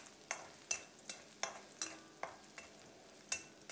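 Chopped Chinese garlic is stir-fried with pork belly in a pan, a soft sizzle broken by about ten rhythmic scraping strokes of a spatula, close and alone with no talk.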